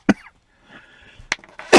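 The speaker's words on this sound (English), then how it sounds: "Sorry for my coughing tonight." Several coughs from one nearby person, a sharp hacking burst at the start and two more near the end, with short raspy breaths between them and near-silence in the gaps.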